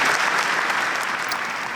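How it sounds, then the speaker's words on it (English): A university audience applauds the recipient of a presidential citizenship award, with dense, continuous clapping throughout that eases off slightly at the end. "Another round of applause"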